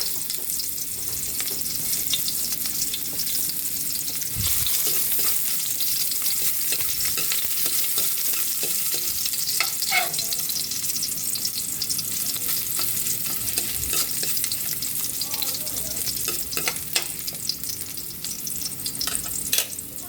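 Ginger fries in a pan for ginataang biya with a steady, loud sizzle, broken by scraping stir strokes and occasional clinks throughout.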